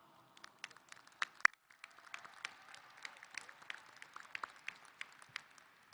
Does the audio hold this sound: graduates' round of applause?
yes